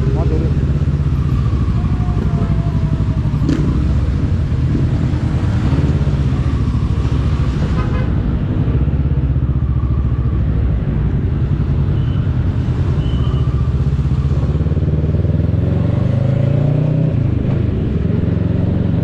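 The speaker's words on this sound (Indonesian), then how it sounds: "Di mana di dalamnya ada 150 motor yang mengaspal di sekitar jalan di Jawa Timur." Motorcycle engines rumble steadily along roads in East Java during a touring ride with about 150 bikes, a continuous low drone with passing vehicle noise, and a voice talks over it.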